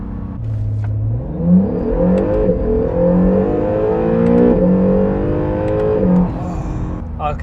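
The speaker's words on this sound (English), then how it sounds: "The acceleration is ferocious in this car." A 2019 Acura NSX supercar accelerates hard, its engine note climbing steadily through rising gears and shifts, loud and close throughout, with no talk over it.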